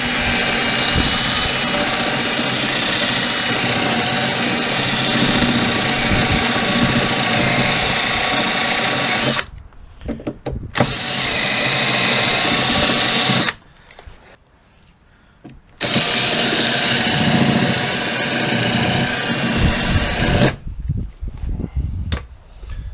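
A loud, grinding drill roars continuously in several long bursts separated by brief quiet gaps, harsh and close, drilling out spot welds on a Ford Transit Connect sill.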